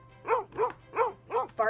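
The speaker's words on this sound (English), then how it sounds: "He's barking." Dog barking in a pet video game, the dog a Doberman Pinscher: four evenly spaced, clear barks followed by a fifth, moderately loud and close, with no voice over them.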